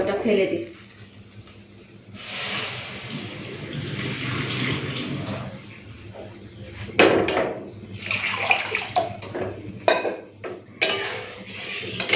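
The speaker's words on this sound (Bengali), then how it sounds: "ডালটাকে লাল করে ভেজে নিয়েছি দু তিনবার জল দিয়ে দিয়ে একটুখানি ভালো করে ধুয়ে দিই" Fried mung dal being washed in water in a pot: splashing and sloshing with clinks of the pot, loud bursts between quieter stretches, while someone talks over much of it.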